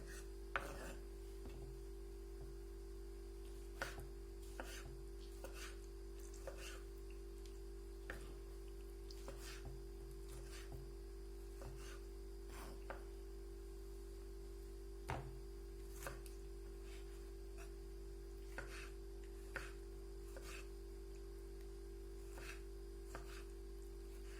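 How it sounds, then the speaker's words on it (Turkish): Quiet, irregular knife taps on a board as tomatoes are cut into cubes, spaced out over a steady low electrical hum, with no talking. "Şimdi böyle doğrayalım bunları küp küp hazırlayalım."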